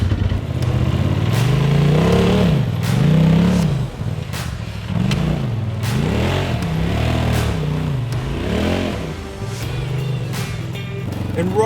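A 4WD vehicle working along an offroad track on a Woodhill night run in New Zealand, its engine loud and close, revving up and down in repeated surges as it climbs and crawls over rough ground.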